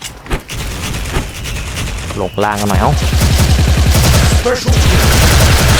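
Rapid bursts of silenced M4A1 rifle fire in the online shooter Special Force, with a Basketball skin, mixed with other in-game gunfire and explosions while a player talks over the action.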